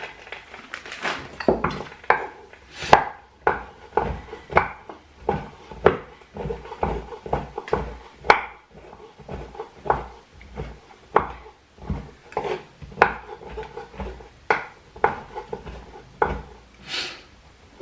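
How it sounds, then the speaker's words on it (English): Pumpkin spice baking chips being chopped with a knife on a wooden board, a close, steady series of sharp thuds and crunches repeating about twice per second. "So I'm going to chop up some more."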